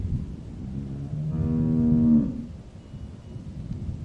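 A cow in The Walking Dead video game lets out a single long, low moo that swells and fades over a couple of seconds, heard alone without speech.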